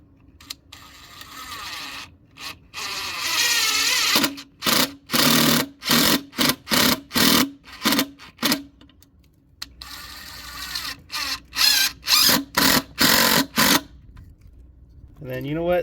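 A power driver sinks 2-inch exterior-rated screws into a wood post base, a series of short, loud whirring bursts in quick succession, close by, with brief pauses between them.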